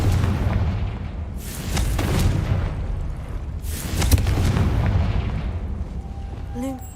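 Confringo spells cast in Hogwarts Legacy burst as two loud, booming blasts a couple of seconds apart, each with a broad rushing tail, followed by a short magical chime near the end, with a voice speaking over them.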